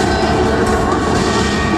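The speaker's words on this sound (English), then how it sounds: "Cargo train up ahead." A cargo train in a video game rumbles past in a continuous loud, heavy roar of wheels and rail noise, brief and close.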